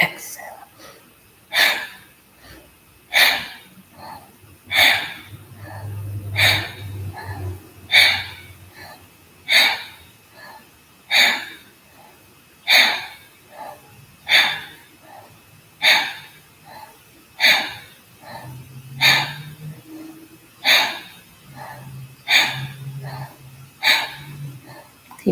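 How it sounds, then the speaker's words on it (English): Rhythmic breathing exercise with sharp, forceful exhales pulsing about every second and a half as the navel contracts, loud and close, while a low voice murmurs faintly underneath in places. "And then we'll increase the contractions. Inhale, exhale."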